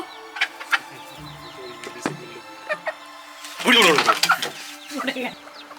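Chickens on an American island cluck in scattered bursts close by, with a louder flurry of clucking partway through and some faint talk around them.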